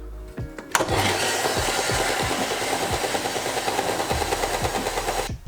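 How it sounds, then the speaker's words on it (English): Belt sander grinding down a metal flange part held by hand, a steady loud abrasive whir with rhythmic pulses from the belt, running continuously after a brief start-up knock. "I've just been trying to grind it down a little bit on the belt sander here"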